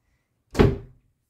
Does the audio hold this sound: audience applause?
no